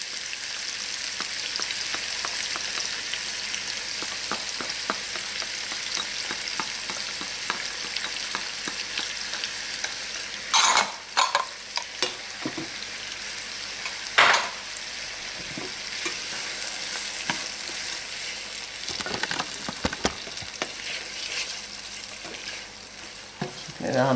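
Celery and onion sauté over high heat for shrimp étouffée, a constant hissing sizzle close by with occasional sharp clicks and scrapes from stirring, no talking.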